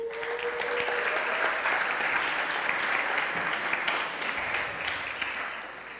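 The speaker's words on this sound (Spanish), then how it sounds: "Un aplauso para ellos." An audience at a Spanish-language gathering bursts into sustained, dense applause, many hands clapping evenly for several seconds at moderate volume with no talk over it.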